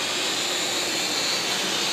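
Eachine E511 drone hovering after one-touch takeoff, a steady high-pitched propeller whine, close and loud, with no talking.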